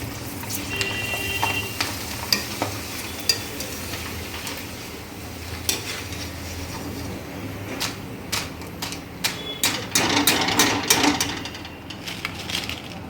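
Potato chips frying in hot oil, a soft continuous bubbling sizzle with scattered crackles and pops, close and fairly quiet, growing busier near the end.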